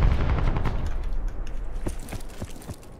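Bursts of machine-gun fire in Call of Duty Black Ops 4 multiplayer deathmatch, heavy and close at first, then easing into scattered, sharper shots.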